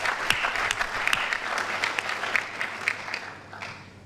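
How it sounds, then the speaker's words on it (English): Audience of women at a live event applauding, sustained crowd clapping with sharp individual claps standing out, tapering slightly toward the end. "I'd like you to give yourselves a great round of applause,"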